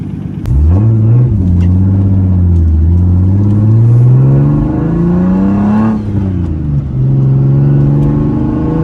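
Turbocharged BMW E30 accelerating hard on sticky tires, its engine loud and close with a rising harmonic whine through repeated revs and gear changes, no talk over it.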